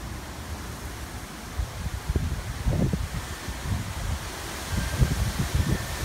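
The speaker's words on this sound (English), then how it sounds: "And here comes that gale force wind." Gale-force wind gusts ahead of a possible tornado, a steady broadband roar with low rumbling buffets against the microphone that swell and grow louder toward the end.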